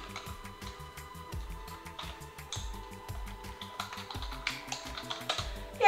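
Rapid, uneven clicking of keys on a computer keyboard as a folder name is typed, close and crisp, with a faint steady hum underneath and no speech.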